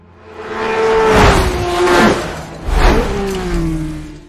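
A Formula 1 car with a modified engine passes during a speed test. Its loud, rising whine swells, fades and then surges again as the car roars by.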